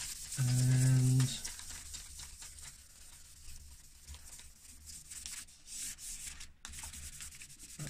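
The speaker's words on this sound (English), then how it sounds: "I'm going to see how a dry sand comes out." Dry sanding of the ski slope trim on a Jaguar XJ40, a steady soft abrasive rubbing heard up close, louder at the start and then continuing at a lower, even level.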